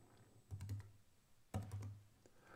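Two quick bursts of computer keyboard typing on a Mac while setting up a WordPress blog post with a text-expansion shortcut, each flurry of clicky keystrokes lasting about a second, close and quiet, with no talk.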